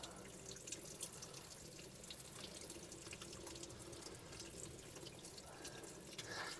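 Water drains steadily out of a Mercruiser engine block during a boat winterizing, a continuous trickle and splash like a running tap, close by and with no talking.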